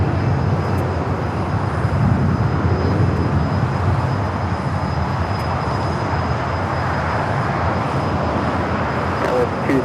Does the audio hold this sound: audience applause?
no